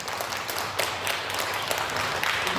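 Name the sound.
audience applause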